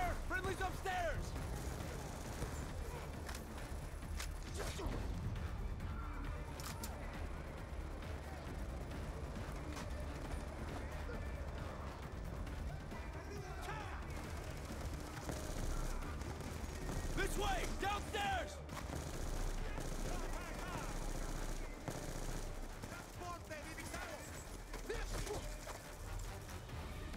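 Gunfire in a Call of Duty: Black Ops II firefight, scattered shots and bursts running steadily through a dense battle din with music and effects, while voices shout over it.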